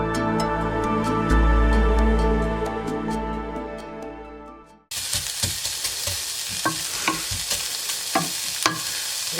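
Onions sauté in a pot for Italian wedding soup, first with a steady, close sizzle and spoon scrapes, then a sharper crackling fry with repeated stirring clicks after a sudden shift midway.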